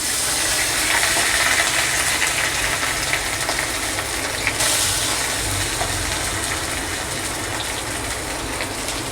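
Cooked rice frying in a hot wok for fried rice, a steady, loud broadband sizzle and hiss running without a break, with no talking.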